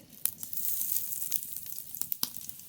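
Whole cumin seeds sizzle in hot mustard oil in a wok, a soft hissing fry with scattered sharp crackles and pops, fairly faint and close.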